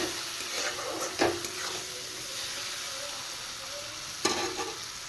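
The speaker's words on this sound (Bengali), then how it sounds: "এবার আমি পরিমাণ মতো জল দেব" Water is poured into a pan of fried spices seasoned with salt and a little sugar, giving a low sizzle and bubbling with two sharp clattering knocks of a utensil against the pan.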